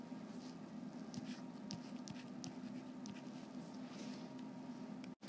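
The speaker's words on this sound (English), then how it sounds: "Let me erase that, make it a little nicer." Faint scratchy strokes of erasing and rewriting a math expression on a board, quiet irregular scrapes and taps spread across the moment, ending with a sharp click.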